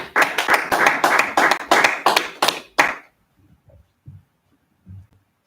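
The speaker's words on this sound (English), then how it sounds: "Clap it up." Class members at a scripture study session clap together in a quick steady rhythm for about three seconds, loud and close, then stop abruptly, leaving near silence with faint small sounds.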